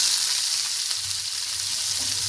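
Chopped onion and chillies land in hot oil with browned mustard seeds for poha, producing a loud, steady, close sizzle that carries through the short moment without any voice.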